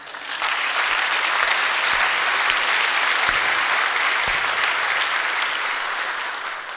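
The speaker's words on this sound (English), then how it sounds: "I think we should give a big hand to Jacqueline Magnuson, our director of pari" A church congregation gives a big hand to the parish choir at an Easter Sunday service, a full, steady applause that swells in quickly and holds strong before easing slightly.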